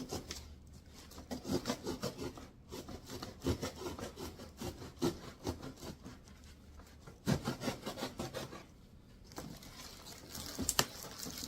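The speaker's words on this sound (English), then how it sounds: "I'm going to cut down this side of the box" A cardboard box holding an Amazon Basics kids' wooden table and chair set is cut down one side, giving a steady rasping, scraping stroke repeated over and over, close and fairly loud, with brief pauses between passes.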